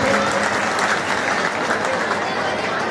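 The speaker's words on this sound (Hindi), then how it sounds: "एक बार तालियों से इसका उत्साहवर्धन करें सभी लोग।" A gathered audience applauds a girl's drawing of Vishwakarma with steady, continuous clapping at fairly loud level, a dense wash of hands with some crowd noise mixed in.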